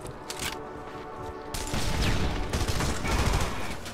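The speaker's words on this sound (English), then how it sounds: "Am I actually getting shot at?" Scattered gunfire in Red Faction Guerrilla, a mix of distant pops building into a denser, louder barrage of impacts and explosions with mechanical clatter.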